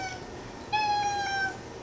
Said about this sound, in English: My cat is yelling at me.